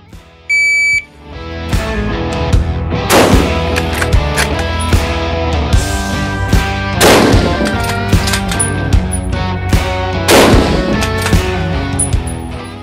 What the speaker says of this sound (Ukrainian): я зробив три прицільних постріли